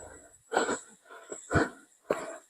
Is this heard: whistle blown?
no